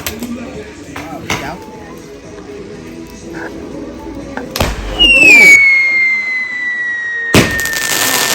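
Fireworks on bonfire night: a sharp bang followed by a rising whistle that trails off, then another loud crack, heard from a distance over background crowd murmur.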